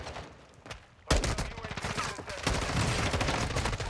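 Rapid gunfire from a first-person shooter on Ashika Island, with a sharp onset after a quiet moment, then dense overlapping shots and bursts that stay loud and close throughout.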